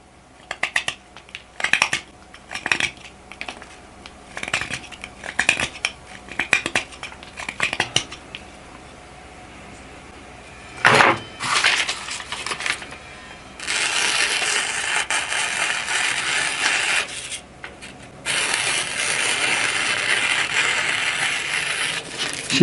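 A steel knife chops and crunches through a pork rib bone in a string of sharp, irregular clacks and scraping cuts. Longer grinding stretches follow, close and fairly loud, with no talk.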